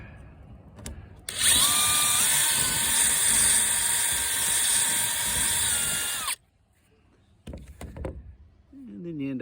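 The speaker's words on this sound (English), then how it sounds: "If not, you might have to drill a little more." Power drill with a metal bit drilling out a rivet in the trim of a 1980 AMF Sunfish sailboat, a loud steady whine lasting about five seconds, followed by brief handling noises and a voice.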